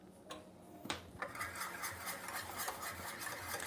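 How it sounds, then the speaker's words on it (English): A whisk beats diplomat cream filling for chouquettes in a pot, making a continuous rhythmic metallic ticking and swishing that is close and moderately quiet, with a couple of sharper knocks near the start. "So now we're going to switch to whisk."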